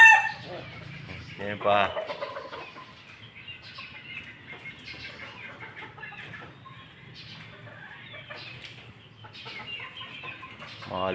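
Chicks peep and chickens cluck close by, with sharp bursts and wing flaps near the start and more clucking later. Someone speaks briefly now and then.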